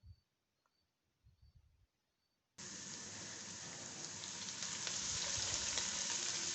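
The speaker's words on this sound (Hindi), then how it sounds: "इसमें ये प्याज और ज़ीरा इसी में डाल के और इनको फ्राई कर लें।" Onions and cumin hitting hot oil in a pan, faint handling noises at first, then a sudden loud sizzle that swells and keeps crackling steadily.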